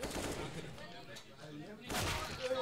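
Gunfire in the tactical shooter CS:GO during a tournament match, a couple of loud sharp shot bursts, the biggest near the end, heard under ongoing commentary.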